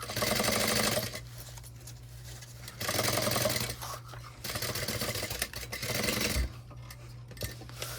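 Sewing machine stitching a messenger bag, loud and close, running in bursts of a second or more with pauses between them and a steady low hum throughout.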